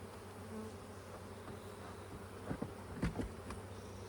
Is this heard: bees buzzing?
yes